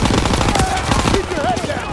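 Heavy gunfire crackles through a Call of Duty: WWII battle, with dense overlapping bursts of automatic weapons filling the whole stretch while shouted voices cut in over the din.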